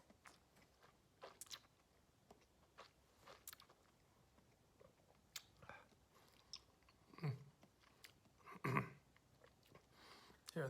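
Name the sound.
chewing a sip of whisky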